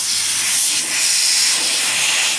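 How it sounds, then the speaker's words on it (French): Steady, loud air hissing from the open bleed valve of a top-floor radiator, a continuous airy rush with no water yet, heard up close and alone. "Là on voit que de l'air sort, mais il n'y a pas d'eau qui sort."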